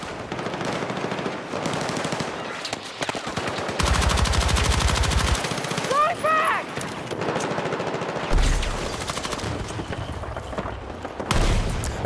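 Submachine gun fire in Battlefield 6, loud, close bursts of rapid automatic shots repeating across the clip, mixed with explosions and other in-game combat noise.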